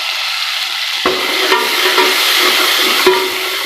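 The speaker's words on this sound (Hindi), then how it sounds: "2 से 5 सेकंड तक के लिए हम इसको भूनते हैं मसाले को।" Masala paste and spices fry in oil in a pot, giving a constant close sizzle broken by a few sharp clicks and scrapes as the mixture is stirred.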